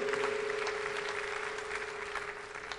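Church congregation clapping enthusiastically in praise, a steady wash of applause at moderate distance with a sustained tonal hum underneath, fading slightly toward the end.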